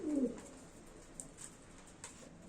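Pigeons in an indoor coop give a soft low coo at the start, followed by faint rustling and light movement nearby.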